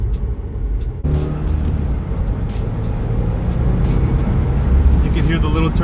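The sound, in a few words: Subaru WRX turbo spooling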